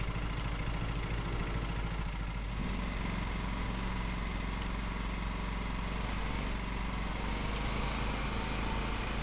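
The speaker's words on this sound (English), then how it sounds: "Hold X to start the vehicle's engine." A riding lawn mower's engine runs in the video game Lawn Mowing Simulator, a steady droning idle that shifts pitch slightly a couple of seconds in and then holds evenly, with no talk.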